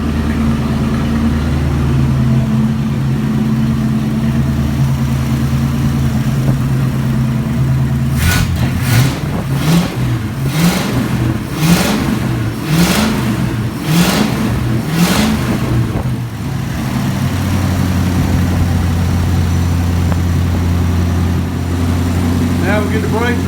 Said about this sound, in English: Okay, the car runs.